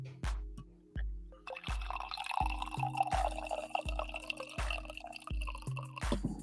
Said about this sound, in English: there's the coffee pour